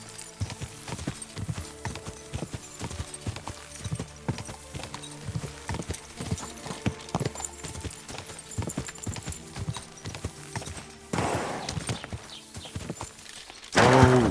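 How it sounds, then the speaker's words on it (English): Horse hooves clip-clop steadily in the video game Kingdom Come Deliverance 2, a rapid rhythmic patter over ambient game sound, followed near the end by a louder burst of noise and a whinny-like call. "My, what beautiful horse."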